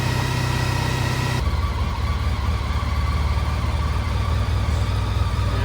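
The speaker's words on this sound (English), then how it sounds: "So turn the bike on, get the bike started." A Honda ST1300 Pan European motorcycle engine fires up and settles into a steady, loud, close idle with a low, even rumble and no voices.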